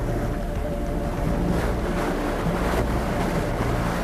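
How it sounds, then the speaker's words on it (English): Strong wind roars over the Masaya volcano crater in Nicaragua, a dense continuous rush with buffeting against the microphone, loud and steady throughout with no talk. "There's a very strong draft right there."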